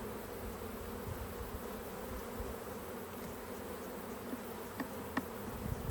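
Honey bees swarm around an opened hive, their dense, steady buzzing droning continuously and close by with no let-up, and a couple of faint ticks rise near the end.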